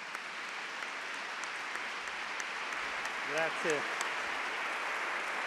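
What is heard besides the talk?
audience applause welcoming a professor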